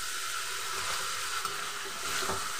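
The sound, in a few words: tomato and green chili frying in spices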